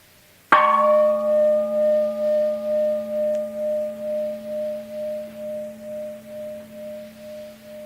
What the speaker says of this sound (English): If you, for example, simply listen to the gong,